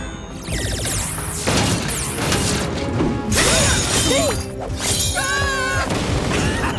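Stage lights crash down and smash in the animated series The Amazing Spiez. A loud run of shattering glass and heavy crashes is mixed with swooping cartoon effects and clattering debris.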